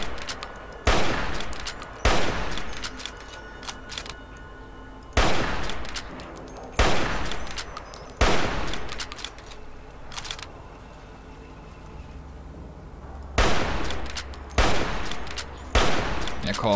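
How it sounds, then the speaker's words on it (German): Repeated bursts of loud gunfire crackle in volleys with short gaps between, punchy and close: rapid shooting in the video game Fallout: New Vegas. "Ich könnte ja noch ein bisschen rumschießen"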